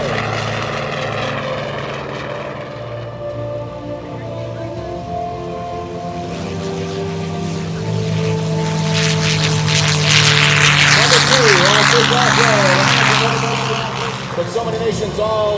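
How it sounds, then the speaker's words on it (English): A T-51D Mustang propeller aircraft at an air show throttles up, its engine drone swelling louder and harsher over the seconds, a steady powerful roar heard from nearby. "Throttle coming forward on the first of our three T51D Mustangs."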